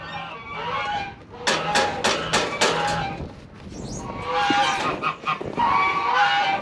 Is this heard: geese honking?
yes